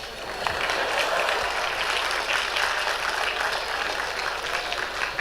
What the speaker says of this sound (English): Clap, guys.